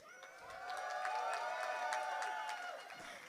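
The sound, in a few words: round of applause for the bride and groom at a wedding reception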